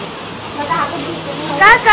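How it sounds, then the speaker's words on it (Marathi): Heavy monsoon rain pours down steadily on a village in the Konkan region, a broad continuous hiss under a voice speaking close by. "खूप म्हणजे खूप मुसळधार पाऊस आहे"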